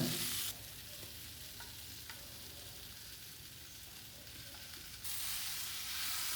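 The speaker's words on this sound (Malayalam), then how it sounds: "ഈ ഒരു ചട്ടിയിലും ലേശം വെളിച്ചെണ്ണയിൽ പിന്നെ നന്നാക്കി വരട്ടിയെടുക്കുകയാണ്" Chicken pieces sizzle in coconut oil in a pan, a dense continuous hiss with occasional scrapes of stirring, louder at the start and end.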